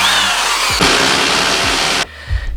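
Cordless power drill or screwdriver whirring steadily at close range for about two seconds during a workstation makeover, then cutting out, followed by brief handling clatter.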